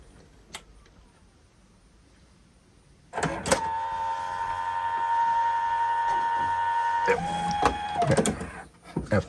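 An iMac G3 Flower Power's slot-loading optical drive whirs and grinds steadily for several seconds as it struggles to eject a disc, with a few clicks and knocks at the start and end, close and clear.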